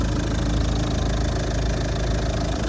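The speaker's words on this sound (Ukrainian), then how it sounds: "Ось так працює мотор, одразу покажу." A Volvo V50 diesel engine with 246,000 km idles steadily and loudly, a constant low rumble with a faint rhythmic knock, no voices.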